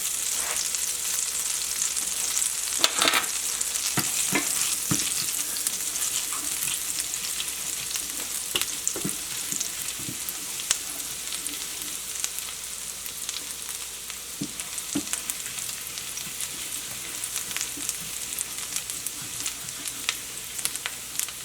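Shallots frying in a pan alongside steak on a lowered burner, a continuous bright sizzle with intermittent stirring scrapes and crackles, close and steady throughout.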